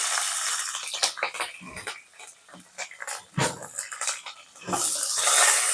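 Green chillies drop into hot oil in a pan while upma is tempered, giving a close, hissing sizzle in bursts and crackles that swell and fade.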